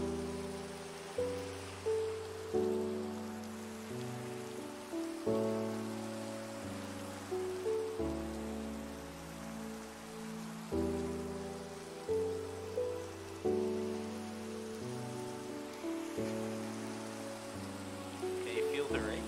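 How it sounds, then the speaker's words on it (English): Rain falls in Minecraft VR as an even patter beneath stepped, slow game music that carries throughout. "Can you feel the rain?"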